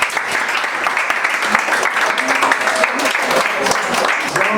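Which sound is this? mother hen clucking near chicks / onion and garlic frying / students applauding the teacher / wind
students applauding the teacher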